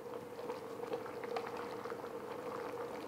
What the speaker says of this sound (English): So let it boil for a minute and see how it reacts.